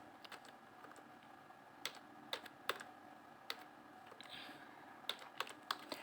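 Keys on a computer keyboard are tapped in short irregular bursts while a date is typed into a form, each click sharp and close, with quiet pauses between the strokes and no talk.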